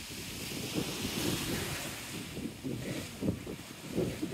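Waves wash and splash against a seawall on a windy seafront at Teignmouth, a steady rushing surf with irregular louder bursts of spray, close by and blown through with wind noise, no voices.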